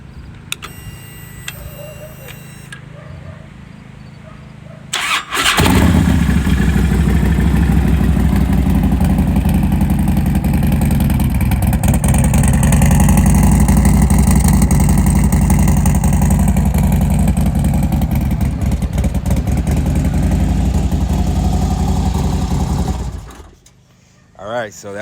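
A Harley Road Glide with a Vance & Hines Pro Pipe 2-in-1 exhaust and 777 cams fires up after a few seconds of quiet, then settles into a loud, lumpy idle with occasional throttle blips before shutting off near the end.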